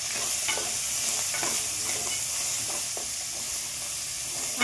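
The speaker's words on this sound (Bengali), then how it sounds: "আমি এই কাঁকড়াগুলো হালকা করে ভেজে নেব" Crabs fry lightly in a pan after being seasoned with salt and turmeric powder. A steady sizzle and hiss runs throughout, with a few soft stirring knocks.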